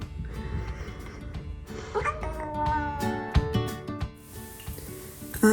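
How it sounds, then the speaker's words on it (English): A house cat meows several times in short, close, fairly loud calls, with rustling and small handling noises around it and no talking over it. "my cat just came in and she wants to say hi"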